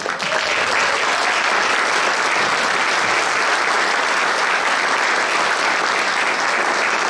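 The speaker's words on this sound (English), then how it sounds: "That's a wonderful applause." Loud, dense applause from an audience at a Republican Party meeting at Heritage Ranch, a continuous wash of many hands clapping without pause and no talk over it.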